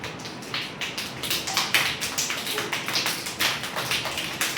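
Group of people clapping in a rain game, fingers tapping palms to mimic rainfall, a dense steady patter of many soft claps building slightly, no talk.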